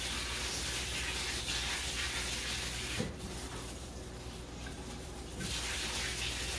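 Water from a kitchen sink tap runs steadily over cooked ground beef in a strainer, a loud close rushing splash. It briefly softens and changes tone partway through as the meat is shifted under the stream, then returns to full flow.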